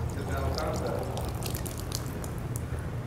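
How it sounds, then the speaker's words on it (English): Water poured into an already full drinking glass runs over the rim, a soft trickling and splashing that continues faintly beneath a low steady background hum. "I can put a little bit more water into this glass."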